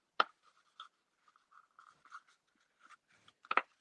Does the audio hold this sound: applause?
no